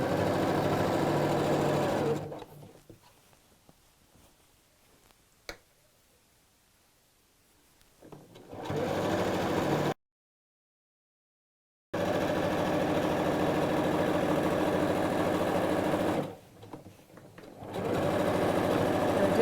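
Sewing machine stitching a smocked tote bag, its steady motor whir running in long close bursts, stopping for quiet pauses with faint handling noises between runs.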